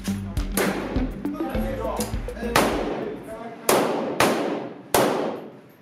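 Gunfire at a civilian shooting range used for volunteer training: loud, sharp reports, a quick cluster of shots followed by several single cracks spaced about a second apart, echoing outdoors.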